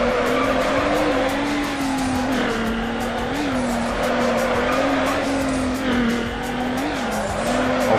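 Racing engine roar from Need for Speed Underground, driving a Hyundai Tiburon GT, loud and continuous with a wavering engine pitch and tires squealing through corners over eight seconds.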